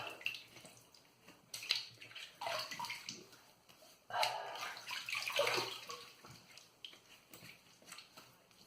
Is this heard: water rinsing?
yes